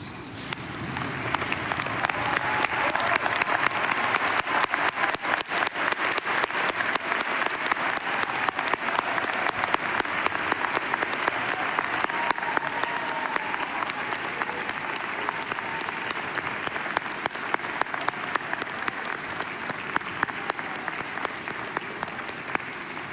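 Graduates and guests at a university convocation applaud in a long, steady round of dense clapping from a large crowd that holds level for over twenty seconds without tapering.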